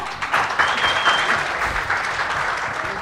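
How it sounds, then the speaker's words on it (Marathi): A packed audience claps loudly for a respected makeup director at a Marathi film song launch event, a dense sustained round of applause from a large crowd that holds steady for three seconds. "त्यांच्यासाठी जोरदार टाळ्या"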